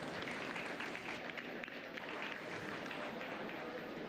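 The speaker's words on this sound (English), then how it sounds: "give that set a nice round of applause" Applause at a 4-H goat show after a doe class is judged, a steady wash of clapping filling the whole stretch with a murmuring crowd mixed in, not especially loud.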